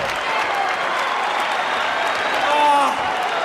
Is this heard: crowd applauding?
yes